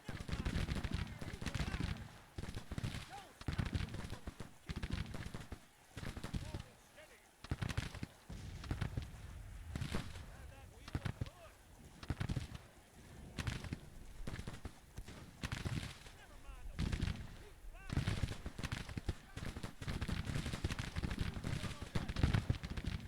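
Distant artillery and scattered gunfire from a Civil War battle in the Grand Tactician strategy game, faint irregular pops and thumps rolling continuously under someone speaking.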